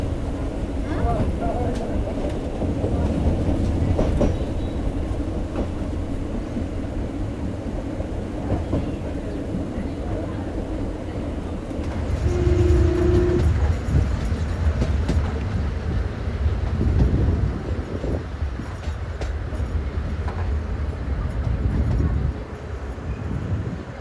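A meter gauge train rumbles steadily through the Gir forest, a continuous near rolling roar with rising surges of wheel and carriage noise and a brief tonal hum partway through.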